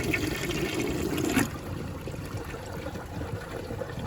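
A Rheem Claymore toilet flushes with a loud rushing swirl of water that cuts off sharply after about a second and a half, leaving a quieter steady trickle of refilling water.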